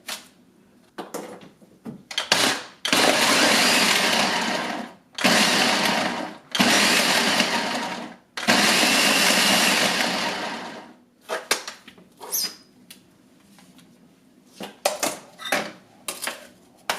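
A Ninja Kitchen System blender creams butter and sugar in several loud whirring motor pulses of a second or more each, separated by short gaps, followed by quieter clatter and scraping of utensils against the bowl.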